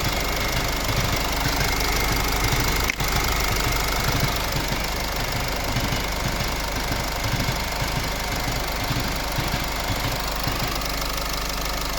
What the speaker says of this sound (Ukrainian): І ось е, звук двигуна.